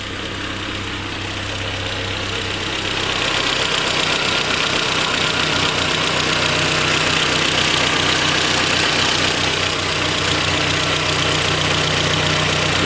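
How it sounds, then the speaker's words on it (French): A Renault Twingo engine idles steadily nearby after a repaired idle fault, its low even hum growing slightly louder after the first few seconds and running on without talk. "après 1 minute, le ralenti est plus bas. Et il est tout à fait correct."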